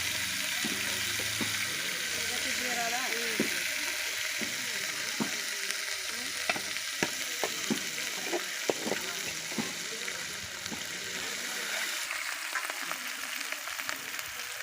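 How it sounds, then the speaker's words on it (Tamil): Ground masala sautés in cold-pressed oil with a steady frying sizzle, punctuated by scraping stirs and light clacks of a spoon against the pan, close and continuous. "அரைச்சி வச்சுருக்காங்க செக்கிலாமா எண்ணெயில் வந்து சேர்த்து வதக்கிக்கலாங்க"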